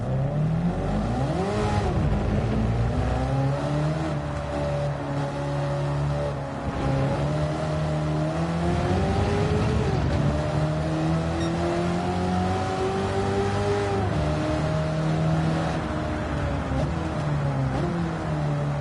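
Race car engine in Gran Turismo 7 revs and climbs through the gears, a steady loud whine rising and dipping with each shift, alone without talk.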